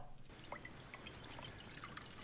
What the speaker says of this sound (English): Another fine pour.